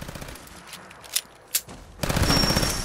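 Automatic M1911 pistol fired in Fallout 4, with a couple of sharp isolated shots followed by a dense, loud burst of rapid fire at the end.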